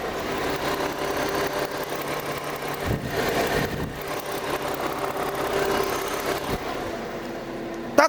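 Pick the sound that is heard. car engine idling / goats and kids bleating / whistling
car engine idling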